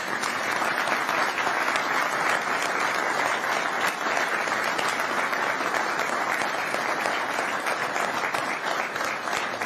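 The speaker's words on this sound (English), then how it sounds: "Would you all join me in giving an applause?" People at a city council meeting in Puyallup applaud former mayors, producing a sustained, even roar of clapping from a sizable indoor crowd that keeps going for the full stretch without letup.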